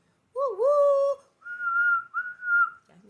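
A voice whistles in imitation of a steam train's whistle: a wavering two-note hoot, then two longer steady high tones, close and clear with nothing behind it.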